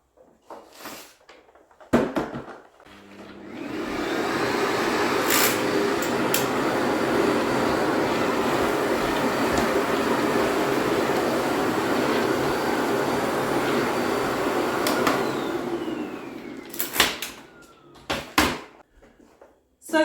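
A vacuum cleaner with freshly cleaned filters clicks on and runs with a steady, loud whooshing roar for about fifteen seconds, then is switched off, with handling clatter at the start and end.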